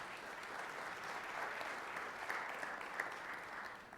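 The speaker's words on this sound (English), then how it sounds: "Everybody give Corey a round of applause, if you don't mind." Steady applause fills a legislative chamber as members welcome a guest, a dense even wash of clapping from many hands, moderately quiet and sustained throughout with no talk over it.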